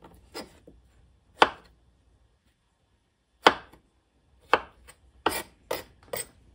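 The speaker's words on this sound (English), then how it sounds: "Gonna cut these pretty small, pull out any bad pieces" A knife chops strawberries into small pieces on a cutting board, about eight crisp, separate strikes in an uneven rhythm with short pauses between them, close and clear.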